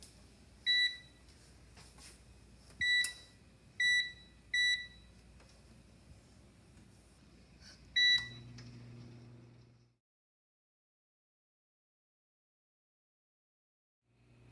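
An oven being preheated to 375 degrees gives five short electronic beeps at uneven intervals, clear and close, over a low hum that ends with a brief lower tone before silence.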